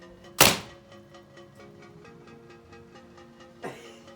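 Paintball gun fired once with a sharp, loud thunk, followed by a steady humming tone and a second, softer impact thump a few seconds later.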